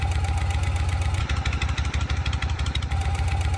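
A Harley-Davidson Shovelhead engine idles steadily and loudly up close, its low, even thumping rhythm carrying light mechanical ticking from the valve lifters.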